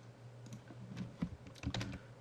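A few quick keystrokes on a computer keyboard click in a short, quiet burst, close up in a still room.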